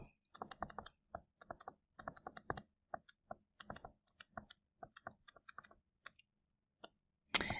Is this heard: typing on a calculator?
yes